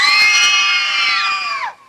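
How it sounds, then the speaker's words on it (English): Background actors on a desert movie set at a Hollywood western studio scream and yell in fear together, a loud, sustained chorus of overlapping high cries that holds for over a second before cutting off abruptly. "Let's hear a little screaming and fear right now for me."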